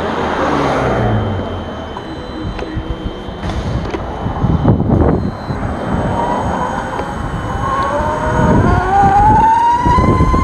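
Micro e-bike electric motor on a test ride with a new throttle, a whining tone that climbs steadily in pitch as the bike speeds up, mixed with road and wind rumble.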